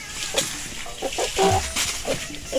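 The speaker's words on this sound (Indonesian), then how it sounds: "Ayam." A chicken clucks in a quick series of short, close calls, busy and slightly raspy, over a hissy outdoor background.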